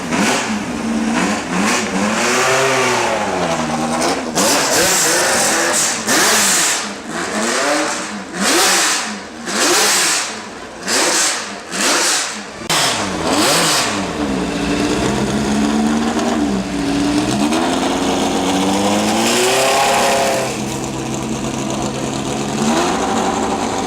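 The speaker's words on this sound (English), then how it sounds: "A high-revving 2-litre V8 sounds is just something that wouldn't exist these days" A high-revving 2-litre V8 car engine, loud and close, with repeated sharp rises and falls in pitch as the throttle is blipped, then a long sustained scream near the top of the rev range, heard alone without talk.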